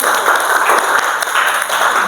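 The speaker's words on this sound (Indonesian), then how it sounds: "Tepuk tangan." Students in an Indonesian Class X classroom clap together in a quick, loud, close burst of many hands, with individual claps audible through the rattle.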